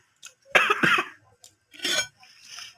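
A person coughing in a short burst of three or four harsh, close coughs with brief pauses between, loud and alone with no talk.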